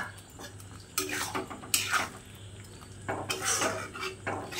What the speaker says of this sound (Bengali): এরপর আমি পনিরগুলো যে ভেজে রেখেছি পনিরগুলো এর মধ্যে দিয়ে দিচ্ছি।